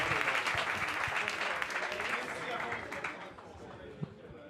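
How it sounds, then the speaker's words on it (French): An audience at an oratory debate contest applauds the winner: a broad burst of clapping that is loud at first and then thins out, with a brief voice near the end. "On peut l'applaudir, mesdames, messieurs"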